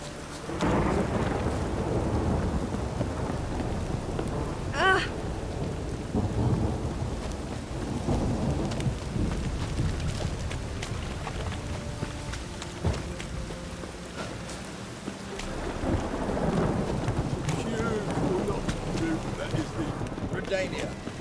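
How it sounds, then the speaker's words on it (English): Steady rain falls with low rolling thunder rumbling through in The Witcher 3 video game, continuous and fairly loud, with brief voices in the background. "Witches have conjured rain."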